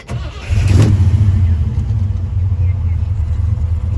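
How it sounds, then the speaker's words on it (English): A 1964 Chevy El Camino restomod with a 350 V8 cranks and fires at close range, settling into a loud, lumpy idle with a steady rumble. "I will start the car up here"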